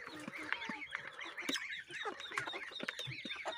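Farmyard fowl, hens with many young roosters, keep up a busy chorus of honking, clucking calls, layered and close but fairly quiet, with no talking.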